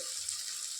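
Crushed ginger and garlic sizzling in hot oil for a quick vegetable rice, a steady close bright hiss with no break.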